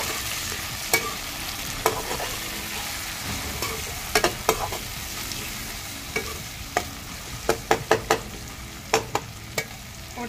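Browned onions and tomatoes fry in a pan over a chulha for baingan bharta, a steady close sizzle punctuated by sharp spoon clicks and stirring taps at irregular intervals.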